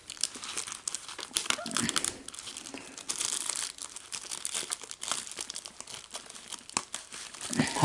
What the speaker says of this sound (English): Get the dental pick and it will pick cut shrink wrap there.